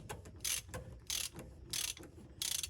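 A ratchet loosens a 24 mm filter plug on a Spartan SRT XD zero-turn mower, giving four quick bursts of close, crisp clicking separated by short pauses.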